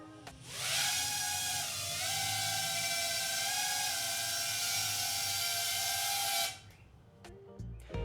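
Darwin BabyApe III Pro, a lightweight, inexpensive FPV drone, buzzes past in flight with a steady high-pitched whine that rises slightly, holds for about six seconds and then cuts away, fairly loud and alone.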